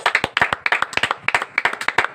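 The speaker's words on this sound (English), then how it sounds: "Let us give ourselves a big round of applause." A classroom of students clapping in a short burst of individual hand claps, clear and close, uneven and not quite in unison, with no talk over it.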